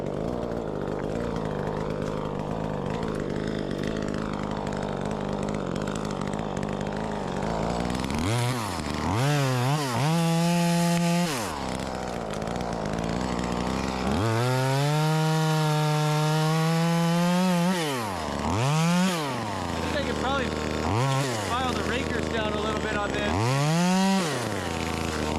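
A knock-off Echo 2511T chainsaw cuts into wood, its engine revving hard in long rising and falling whines that sag and bog down under load, loud and close, with short idle gaps between cuts.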